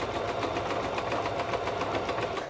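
A sewing machine top-stitching runs steadily at close range, its needle clattering in a fast, even rhythm without pause.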